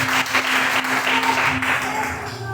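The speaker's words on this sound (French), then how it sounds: "acclame très fort le Seigneur Jésus-Christ" A church congregation applauds, a dense wash of clapping that continues without pause for a few seconds and sounds close and lively.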